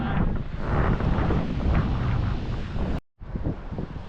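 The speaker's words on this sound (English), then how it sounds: "it's very windy now" Heavy wind rumbles and gusts against the microphone continuously on a beach at Diamond Head, cutting out briefly before the roar returns.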